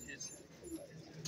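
A pan-tail pigeon, a netted-pattern bird offered for sale at a pigeon market on Jamia Masjid Road, Rawalpindi, gives soft, low cooing beneath someone talking nearby, with brief higher chirps mixed into steady background noise.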